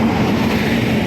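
A train at a railway station, a loud, close, steady rumble of rolling carriages heard alone for about a second.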